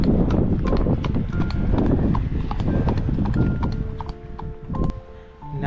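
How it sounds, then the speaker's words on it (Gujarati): Hooves of an approaching horse and rider clip-clop on a village road in the UK, a quick, loud, close rhythm that eases slightly toward the end, with no voices over it. "જો ભાઈ ઘોડે સવાર બી આવી રહેલા છે."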